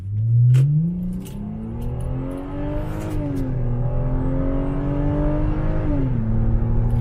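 Heard from inside the cabin, a Lexus GS300 engine hums loudly as the car pulls away and accelerates, its tone rising through the gears with a shift around the midpoint and another near the end, and nobody talks.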